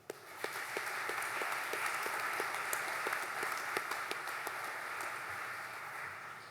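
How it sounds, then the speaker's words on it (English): A crowd applauding steadily at a graduation ceremony, a dense wash of many hands clapping heard from a distance, sustained throughout without voices. "a round of applause for the staff of Yorktown"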